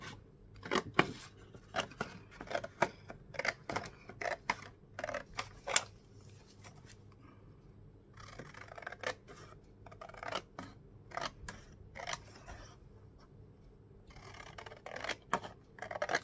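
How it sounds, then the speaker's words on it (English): Scissors snip through paper card in short bursts of crisp cuts, close and quiet, with pauses between runs and no speech. "And use my scissors to cut on the line."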